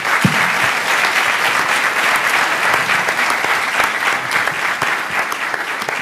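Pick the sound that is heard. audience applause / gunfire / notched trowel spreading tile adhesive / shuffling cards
audience applause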